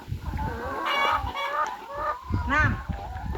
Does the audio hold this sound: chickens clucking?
yes